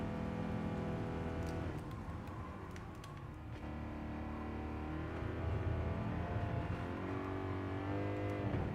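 A race car engine in a racing video game drones steadily and close, with the tone dropping and rising as gears shift, a brief break near the middle and then a renewed climb in revs.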